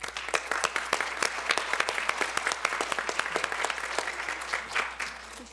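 A room full of people applauds ambassadors, volunteers and board members with dense, lively clapping that sharpens into distinct near claps, continuous from start to finish.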